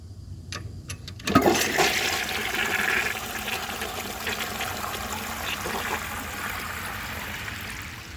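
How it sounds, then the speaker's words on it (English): A 1950s Kohler Trent toilet flushes with a sudden loud rush of water, then a steady swirling drain and trickle that carries on for several seconds. "give it another flush once the tank refills"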